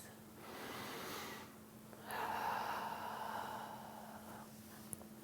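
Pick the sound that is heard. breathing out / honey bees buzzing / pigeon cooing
breathing out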